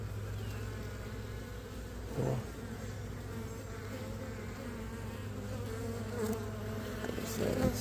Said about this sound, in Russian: Пчелка работает